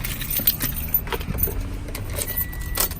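A set of car keys jangling near a vehicle fitted with a Clifford 3105X alarm system: a few close metallic clinks and rattles over a faint background hum.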